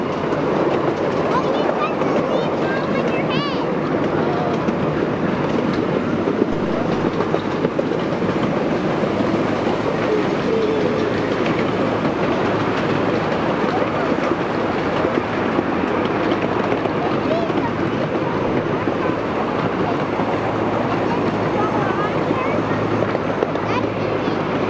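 Casa de Fruta park ride train running, with a continuous rolling rumble and rattle of the cars on the track and a voice talking over it at times.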